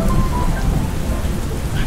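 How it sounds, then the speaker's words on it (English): Steady rain pours over an outdoor backyard wedding venue, a dense, continuous hiss of drops hitting surfaces, loud and unbroken, with a deep low rumble underneath throughout. "It is raining right now"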